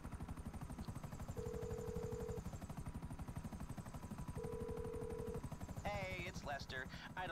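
A police helicopter hovers during a chase in GTA Online, its rotor thumping in a fast, steady rhythm throughout. A faint siren-like tone comes and goes, and sharp bursts of game effects cut in toward the end.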